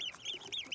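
Close, quiet clucking from turkeys, several quick warbling calls packed into under a second.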